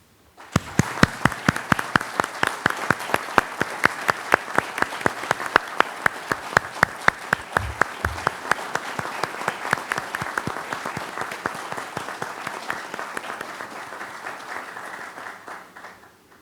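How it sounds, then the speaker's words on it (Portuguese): Warm applause from a seated audience at an academy induction ceremony, a steady run of loud, sharp individual claps with no speech, lasting throughout and thinning slightly toward the end. "uma calorosa salva de palmas"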